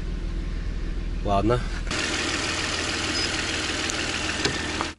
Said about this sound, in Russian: Обратите внимание, как работает двигатель. Это бензиновый двигатель.